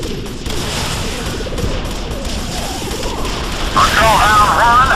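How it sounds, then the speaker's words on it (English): Rapid Gatling gun fire in the video game Anomaly 2, a dense continuous loud burst of shots with mechanical clatter and booms, growing louder toward the end. "Time to taste the Gatling."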